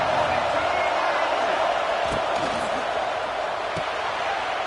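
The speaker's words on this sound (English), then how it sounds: "This crowd bringing the energy and noise early." A college football playoff stadium crowd fills the air with a constant, loud roar that stays steady and unbroken throughout.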